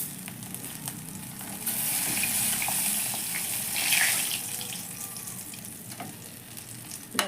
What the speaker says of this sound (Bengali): আমি সুন্দর করে মাছটাকে ভেজে নিয়েছি।